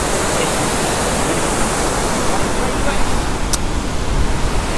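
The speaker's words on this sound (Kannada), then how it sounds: "ಮಾನ್ಸೂನ್ ಆಗಿರೋದ್ರಿಂದ ಭಯಾನಕವಾಗಿ ಮತ್ತು ಮನಮೋಹಕವಾಗಿ ನೀರು ಹರಿತಾ ಇದೆ" Bheemeshwara waterfall in Uttara Kannada, swollen with monsoon water, gives a loud, constant rushing roar that fills the whole clip without a break.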